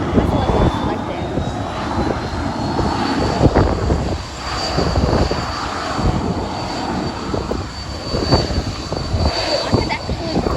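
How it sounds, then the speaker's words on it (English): Airplane passing at Sydney Airport, a loud sustained engine roar and rumble with a high whine over it, steady throughout, with people talking beneath it. "When the plane comes past"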